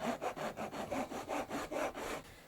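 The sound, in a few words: cutting a line into a wooden guitar fretboard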